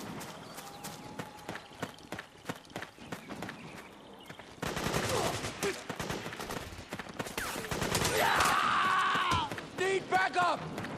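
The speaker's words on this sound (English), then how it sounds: "Suppressing fire!" Automatic and single-shot gunfire in the Metal Gear Solid 4 video game, in rapid bursts. It starts moderately loud and grows denser and louder midway, mixed with game effects and shouted voices.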